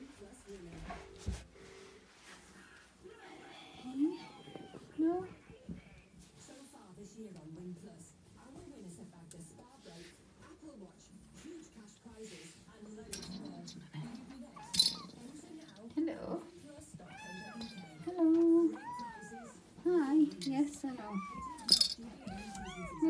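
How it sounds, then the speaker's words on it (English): A Siamese kitten in a playroom gives repeated high, wavering meows. They start sparse and grow more frequent near the end, heard under and between a person's talk, with occasional light clinks. "He's crying so that you claw him."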